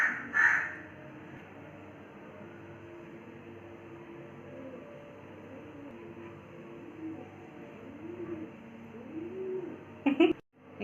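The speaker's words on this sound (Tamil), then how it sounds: "காக்காக்கு வேணுமா பீஸா?" Birds call outside a home kitchen with a series of repeated, moderately faint calls spread across the span. A louder burst comes near the start and another near the end, and no one speaks.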